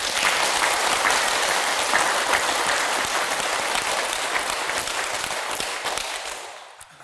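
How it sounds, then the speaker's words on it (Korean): A Buddhist lecture audience claps steadily and densely for several seconds, the applause tapering off at the end. "박수 쳐주세요"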